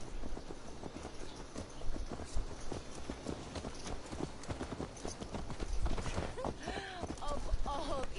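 Horse hooves clip-clop steadily through a Viking-era settlement in Assassin's Creed Valhalla, a continuous trotting rhythm under background ambience and some game music, with faint voices in the mix.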